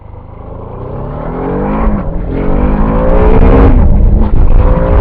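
A BMW F450 GS motorcycle accelerates hard on a test ride, its engine note climbing steadily through the gears, loud and close, with wind rush over the mic and no talk.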